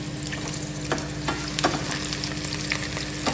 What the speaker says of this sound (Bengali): আর এদিকে আলুটা ভাজা করছি